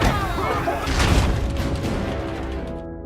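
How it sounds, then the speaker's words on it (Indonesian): A loud, booming smoke bomb blast with a crashing burst and rumbling low end, quickly followed by a dense hissing wash that lingers and slowly fades. "tiba-tiba bom asap meledak"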